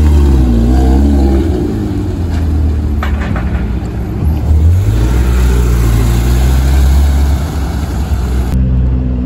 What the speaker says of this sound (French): Trop du monstre Ferrari 296